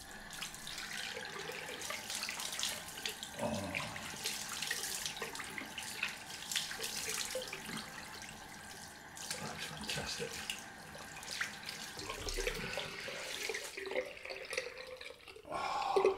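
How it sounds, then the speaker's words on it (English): Cold tap water running into a bathroom sink for a rinse after a wet shave, a steady faint splashing flow with occasional drips and handling noises. "Right, let's do the cold rinse."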